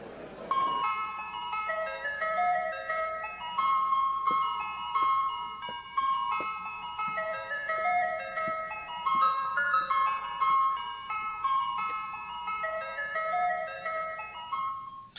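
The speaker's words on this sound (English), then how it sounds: "is one of the most iconic ice cream truck jingles today" Ice cream truck chime playing the Turkey in the Straw melody, a bright electronic tune repeating steadily and fairly clear throughout, with faint background noise and no talking.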